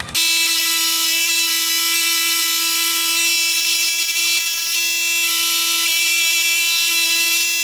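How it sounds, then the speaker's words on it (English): A scroll saw cuts a small piece of wood for a finger skateboard, giving a steady, loud buzzing whine that starts abruptly and holds without a break. "And we cut that little piece out at the scroll saw."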